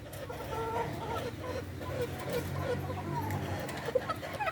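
Hens clucking in a backyard poultry yard, steady soft clucks and fowl murmurs throughout, heard under someone talking.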